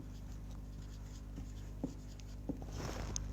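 Numbers are handwritten in a quiet room, producing faint scratchy pen strokes and a few light taps against a low background hum.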